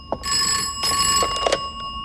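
A telephone bell rings in a 1994 French film, several bursts of ringing separated by short pauses, clear and fairly close with no talk.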